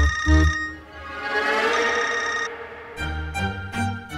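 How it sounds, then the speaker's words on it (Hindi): A phone rings with a bright, warbling electronic tone while people talk over it, the ring cutting off partway through. "फोन भी आ गया उसका।"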